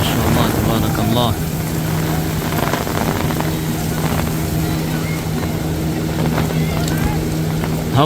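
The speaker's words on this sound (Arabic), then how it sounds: "امطار غزيرة ورياح شديدة" Heavy evening rain and strong wind sweep across Medina, a loud, continuous roaring rush that fills the whole stretch with no breaks.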